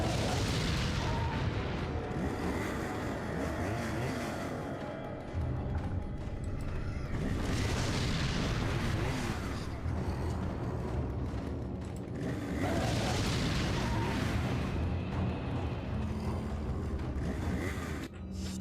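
Grenade explosions in the video game Resident Evil 4: loud, broad booming blasts that come in about three separated waves, each rolling and fading over a couple of seconds, without speech.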